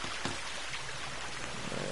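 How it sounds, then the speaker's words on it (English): Rain beginning to fall in the survival video game The Forest, a steady, moderately loud broadband hiss of drops and pattering with no voices. "I think it's starting to rain."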